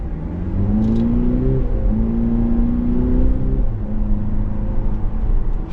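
A 2025 Cadillac CT5 Sport AWD in sport mode accelerating hard, its engine note climbing steadily through crisp, quick upshifts, loud and close with a steady cabin whir beneath.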